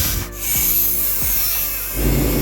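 A welded exhaust silencer from a Pulsar 220 motorcycle being cut, producing a close, continuous harsh rasping with a few rhythmic strokes and no voices.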